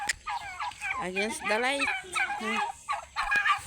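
Turkeys on a farm gobble repeatedly close by in warbling bursts, with a person speaking briefly among the calls.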